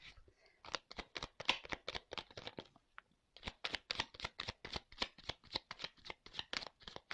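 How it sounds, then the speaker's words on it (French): Tarot cards are shuffled close by in a long run of quick, crisp riffling flicks, with a short pause midway before the shuffling resumes, soft and without talk. "Je prends 2-3 cartes."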